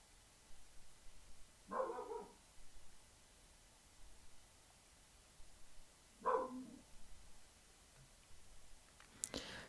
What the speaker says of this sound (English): Excuse if you can hear my dog barking in the background.